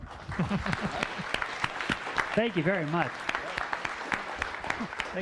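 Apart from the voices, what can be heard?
audience applause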